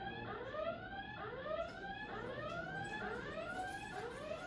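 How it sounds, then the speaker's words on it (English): An electronic alarm sounds outdoors in Bellflower, California, a rapid repeating rising whoop-like siren pattern, moderately faint and steady with no talk over it. "They got an alarm going on."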